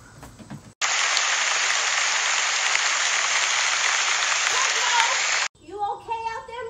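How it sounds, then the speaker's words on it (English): Steady, dense broadband hiss of heavy rain pouring down, loud and continuous, ending abruptly, with voices heard briefly before and after. "I know it is not about to rain."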